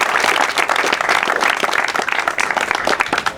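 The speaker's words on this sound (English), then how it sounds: "So let's give Chris a round of applause." Applause from an outdoor crowd at a tennis complex dedication ceremony, a dense steady wash of many hands clapping at close range for about three seconds, with faint voices mixed in.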